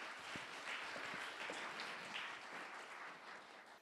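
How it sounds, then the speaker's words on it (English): Audience applauding panelists at an entrepreneurs' panel, a steady wash of clapping that holds for several seconds at moderate level and eases slightly toward the end. "you guys can give them a warm round of applause"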